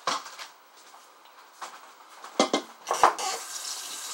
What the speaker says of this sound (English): Rinse out the wok a little bit